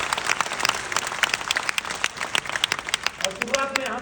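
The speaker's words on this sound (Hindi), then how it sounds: "एक बार जोरदार ताली बजा दें केवल महिलाएं" Women in the audience at a meeting held before a chief minister clap loudly and continuously as a burst of applause, with some crowd noise.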